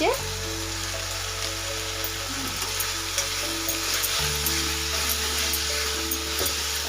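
Prawns fry steadily in a pan with garam masala for Odia chingudi bhaja, a loud continuous sizzle with occasional stirring scrapes over a low steady hum.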